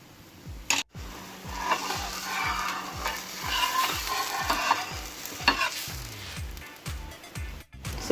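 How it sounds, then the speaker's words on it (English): Spinach green dosa batter sizzles loudly on a hot pan, a close, continuous crackle, with repeated rhythmic scraping and stirring taps running underneath. "slowly flip and see the sound of the dosa"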